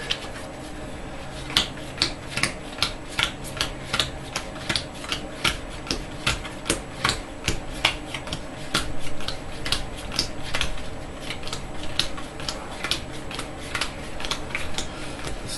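A deck of cards is riffled through an automatic card shuffler, giving a steady series of sharp, evenly spaced clicking snaps that run for several seconds before blurring into a softer whir.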